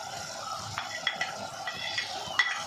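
Pieces of vada are dropped into a simmering curry and stirred in a pot, giving soft scraping and clinks of a spoon against metal over a low bubbling sizzle.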